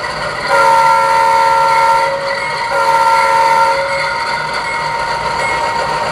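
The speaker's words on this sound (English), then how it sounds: "And you can faintly hear the bell there." A sound-equipped Kato AC4400CW model locomotive on DCC gives a steady, sustained tone alongside a constant hum, loud and close.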